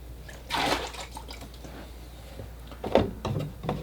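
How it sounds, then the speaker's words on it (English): Fresh clean water is poured into a bucket used for rinsing watercolour brushes. Two short splashing pours are heard up close, separated by quieter gurgles and drips. "So we'll pour some fresh clean water in the bucket here, like that."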